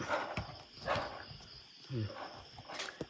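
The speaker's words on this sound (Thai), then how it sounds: "มีหมาเห่าด้วย" Dogs bark at night near an abandoned house. A few faint, scattered barks sound in the distance under quiet talk nearby.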